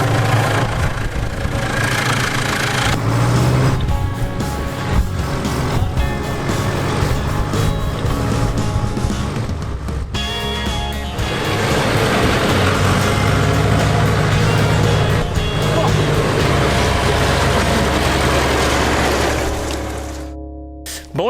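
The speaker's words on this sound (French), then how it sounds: "il va dételer le chariot et après il ramène le tracteur" A farm tractor drives off after unhitching a trailer during the 2021 grain harvest, its engine a steady loud drone with mid and low rumble throughout and no talk.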